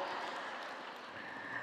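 Audience applause at an alumni coaching session, a steady, soft wash of many hands clapping from a distance, continuous and faint, with no voices over it.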